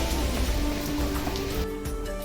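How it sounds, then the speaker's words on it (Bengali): Rain pours steadily during a cyclone, with gusty wind, making a dense, constant wash of noise that stays loud throughout. "এখন হালকা হালকা ঝোড়ো বাতাস দিচ্ছে আর তার সঙ্গে বৃষ্টিটা হচ্ছে"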